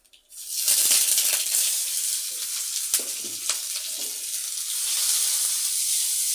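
Green chili paste dropped into hot oil with nigella seeds and dried red chilies bursts into a loud, close sizzle that settles into a steady crackling hiss with a few stirring knocks.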